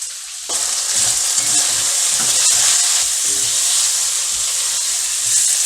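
Turmeric and spices fry in a pan for a lamb jalfrezi curry, with a loud continuous hiss and sizzle that bursts in abruptly and holds steady, along with faint stirring scrapes underneath.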